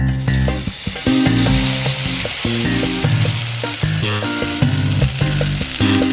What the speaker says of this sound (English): 5 little latkes sizzling in the pan.